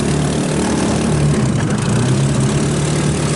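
A salvaged 150cc GY6 side-by-side off-road go-kart engine runs with its throttle stuck open, giving a loud, continuous, steady drone close by with no letup.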